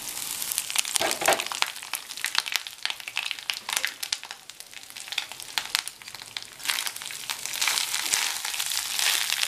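Grated coconut crackles and sizzles in a hot pan with chillies, a dense, steady frying hiss broken by crisp crinkly pops throughout, close and continuous with no talking.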